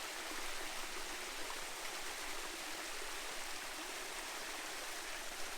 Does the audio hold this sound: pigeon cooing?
no